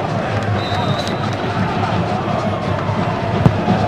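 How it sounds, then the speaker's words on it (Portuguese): São Paulo football fans roar as a steady, dense crowd noise in a stadium during a Santos versus São Paulo league match, with a sharp thump near the end. "Aí a torcida do São Paulo."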